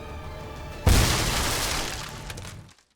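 Explosion of red explosive objects in the Sniper Elite video game: a single loud, close boom after a quiet lead-in, followed by a long crackling, rumbling decay of debris that fades out near the end.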